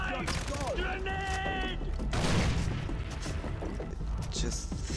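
In the Far Cry 4 video game, a thrown grenade goes off amid a burst of gunfire and mechanical clatter, loud and close, with people talking over the action.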